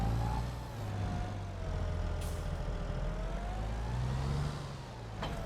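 A tractor engine in Farming Simulator 22 on the Elmcreek map, a steady low diesel drone with slight pitch rises and falls as it revs, continuous and close throughout.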